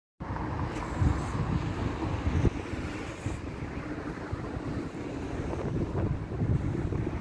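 Wind and breaking waves on the beach at Valencia, Spain, a steady, loud roar with heavy wind buffeting on the microphone and surf washing throughout.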